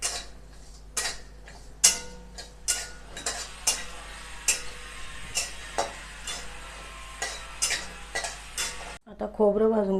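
Spices and dry ginger are dry roasted in a pan for a long-keeping spicy black masala, with sharp, irregular scraping and clinking stirs over a quiet background, up close.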